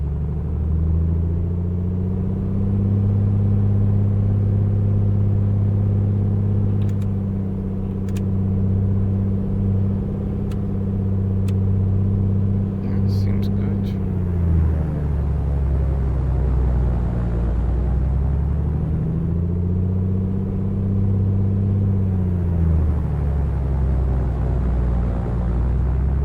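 A Kodiak aircraft's engine runs up on an Arctic Village ramp, a steady, loud droning rumble that holds for a long stretch, dips and swells in pitch midway, then settles again. Brief radio-like clicks and a short spoken remark are heard.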